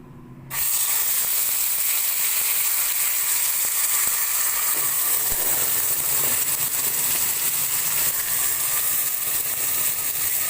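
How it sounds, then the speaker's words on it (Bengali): Vada pav batter mixture hitting a pan of hot oil, a steady loud sizzle and hiss that starts abruptly and runs without a break, with no voices. "এবার আমি এই যে মিক্সারটা, এটা আমি এখানে ঢেলে দেব"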